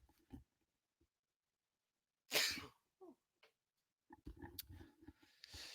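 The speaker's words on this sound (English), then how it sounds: "Had to sneeze a little bit." A single sharp sneeze bursts out after a pause, preceded and followed by brief mouth noises, with quiet talking resuming afterward.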